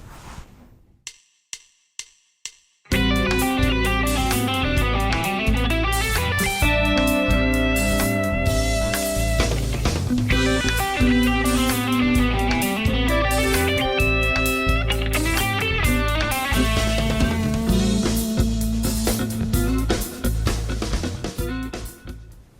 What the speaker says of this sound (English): This one's another triplet line with a little bit of string skipping and some wide stretch pentatonic material in there as well.